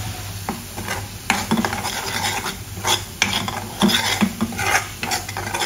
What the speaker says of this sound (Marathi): तर मसाले असे 2 मिनिटं परतून घेते।